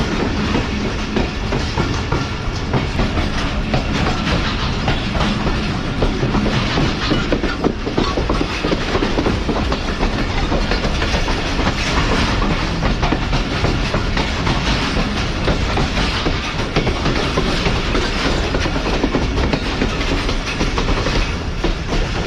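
The Karachi Express rolls through a long right-hand curve in heavy rain, a loud, continuous wash of rail noise and wheel rumble mixed with dense rain hiss, steady throughout with no voices.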